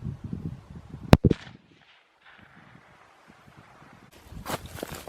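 Tikka T3 rifle in .204 Ruger fired at a 100-yard target, a single sharp loud crack followed by a brief echo, then quiet outdoor rustling and handling noises.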